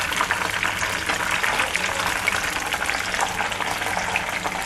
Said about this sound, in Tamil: ஒரு கடாயில் எண்ணெய் காய வச்சுருக்கேன். இப்போ இதில் ஒன்று ஒன்றா போட்டு பொரிச்சிடலாம்.